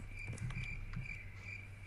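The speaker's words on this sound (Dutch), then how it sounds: "Nou moet ik weer een krekelgeluid erin editen" A cricket sound effect chirps in a steady repeating trill over a quiet, hissy background, faint and continuous with no voices.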